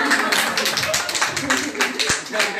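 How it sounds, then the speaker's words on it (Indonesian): Clapping from a small audience in an Indonesian classroom-style talk, a brief burst of hand claps of moderate loudness with voices mixed in. "Mana tepuk tangan?"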